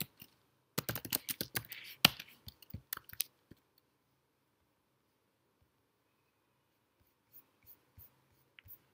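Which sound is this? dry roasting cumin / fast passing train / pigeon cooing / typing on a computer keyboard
typing on a computer keyboard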